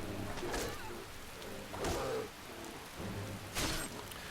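Steady rain falling in the game Skyrim, a continuous wash of soft patter with a few louder swells, no voices.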